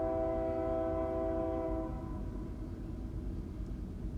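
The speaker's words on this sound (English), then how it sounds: "But you can hear the train really loud from here." A train horn blares in a long, steady, moderately distant chord for about two seconds and then cuts off, leaving a low rail rumble that carries on beneath it.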